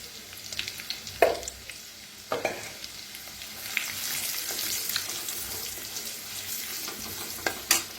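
Curry leaves and turmeric sizzle in hot oil in a pan for a kadhi, a soft continuous frying hiss with a few sharp clinks and stirring knocks from a utensil, no talking.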